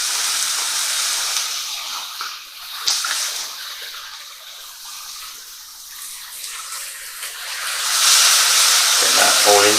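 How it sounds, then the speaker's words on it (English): White wine reduction poured into a hot pan for creamy honey mustard chicken, giving a steady sizzling hiss that swells louder near the end as the liquid hits the heat. "So this is our white wine reduction that we need to now add in."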